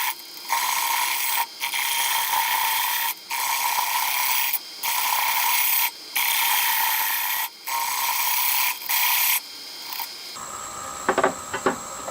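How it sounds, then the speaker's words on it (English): Wood turning on a lathe with a 3/8 inch detail gouge while shaping an inside-out ornament: a steady, loud broadband cutting hiss in repeated passes of about a second and a half, separated by brief pauses, ending with lighter scraping and a few clicks. "I'm gonna use a detail gouge, a 3/8 detail gouge."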